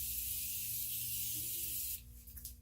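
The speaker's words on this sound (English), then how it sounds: "now I'm going to go in with one more spritz of setting spray" Makeup setting spray spritzed close up, one long steady hiss lasting about two seconds before cutting off into quiet rustling.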